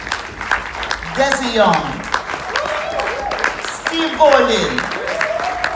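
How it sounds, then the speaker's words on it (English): Applause from an awards-ceremony audience at a music awards event, steady clapping running underneath a speaker who keeps talking and reading out names over it. "And as I call the names, I clap them."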